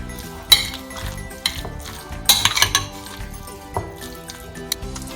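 Chicken being stirred together with mayonnaise for a quick lunchbox sandwich filling, heard as irregular clinks and scrapes of a spoon against a dish, some sharp and close, others soft, with no talking.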